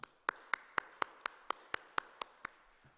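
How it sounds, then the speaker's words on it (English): Slow, evenly spaced claps, about ten distinct sharp hits, from a small group or a single pair of hands at a regional multi-stakeholder forum on human and drug trafficking, fairly close and with no talking over them. "Please join me in giving them a round of applause."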